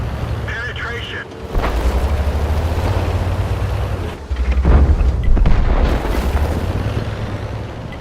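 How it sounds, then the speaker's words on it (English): In World of Tanks, an AMX 13 57 tank shell strikes and penetrates enemy armor, giving heavy, booming impacts over a continuous low rumble, with a voice present. "Good shot. Good aim. Penetration. Enemy armor is hit. Penetration."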